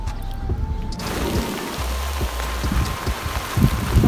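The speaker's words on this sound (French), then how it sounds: "Ah, il pleut." Steady rain pattering on a surface, a continuous close hiss with scattered drips and low thuds, no voices.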